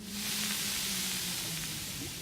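Food sizzles over a fire while cooking in the survival video game The Long Dark, a dense, steady hiss with a faint low hum underneath and no talking.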